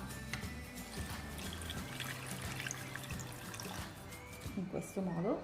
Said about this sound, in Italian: aggiungiamo 2 bicchieri di acqua